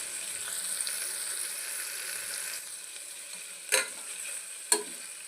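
Ginger garlic paste and green chilies frying in a pan for tomato bath give a steady, close hiss throughout, broken by two sharp clinks of a spoon near the end.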